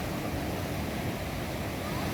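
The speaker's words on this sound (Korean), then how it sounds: "파도가 좀 있죠?" Ocean surf rolls in at San Fernando beach in La Union, Philippines, a surfing spot, as a steady, dense wash of breaking waves with some wind noise, loud and continuous with no voices.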